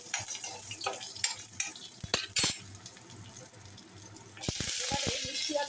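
Green chillies and small lentil dumplings drop into tempered oil with sharp spattering bursts and spoon scrapes, quieter frying between, then a louder rush of sizzling near the end.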